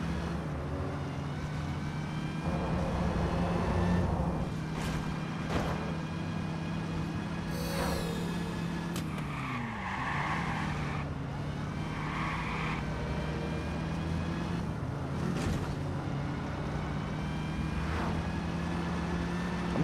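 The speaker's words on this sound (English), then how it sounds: "Listen to that supercharger." A supercharged car driven in the Watch Dogs video game, its engine holding a steady loud drone with a high tonal whine running through it, dipping and rising briefly as the car slows and speeds up.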